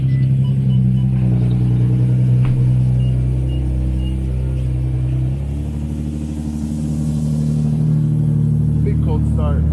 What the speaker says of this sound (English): Big cold start.